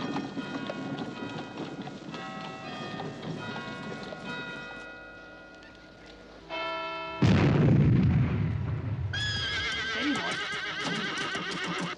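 A loud boom from a time gun fires partway through, ringing out over horse whinnies, clip-clop hooves, and bells, followed by a lingering roar and more neighing.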